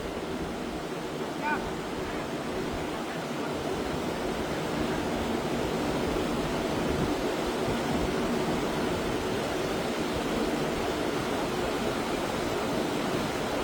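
Strong river current rushing past at an eel fishing hole, a loud, continuous broadband roar of churning water close to the microphone, steady with no breaks.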